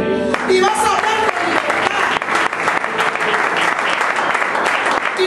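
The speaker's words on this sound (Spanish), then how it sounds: "Dale un aplauso a Dios." A church congregation claps enthusiastically in a dense, sustained burst of applause, with a voice speaking briefly in Spanish at the start over the clapping.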